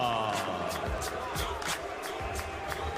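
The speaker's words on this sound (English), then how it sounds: "Crowd expresses their appreciation for Gamboa's unanimous decision win over Darleys Perez" A boxing arena crowd cheers and applauds after a unanimous-decision win, a dense, sustained roar of many voices at a distance, with a commentator's voice talking over it.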